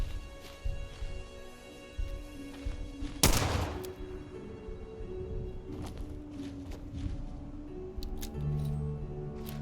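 Gunfire in the Fallout 4 video game: one loud, sharp shot bursts out near the middle of a steady bed of ambient game sound, with fainter scattered cracks and steps around it.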